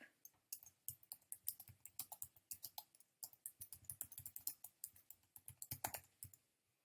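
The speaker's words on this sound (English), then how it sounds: "And then here I can type." Rapid, steady clicking of keys on a computer keyboard as text is typed, close and fairly quiet, with brief pauses between bursts.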